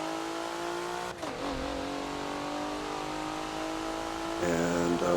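Race car engine at Road Atlanta in the Forza racing game, a steady mid-pitched drone that dips at a gear change, then climbs as the car revs and accelerates.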